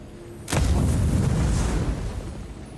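A grenade detonating in the fantasy game Avowed: a sudden sharp blast followed by a heavy, rolling low rumble that slowly fades over a couple of seconds, with no talking.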